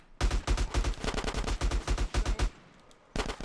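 Rapid bursts of AK rifle fire in Grand Theft Auto: San Andreas on PS2, loud and close, with a steady rhythm of shots through most of the stretch, a short lull, then more firing at the end.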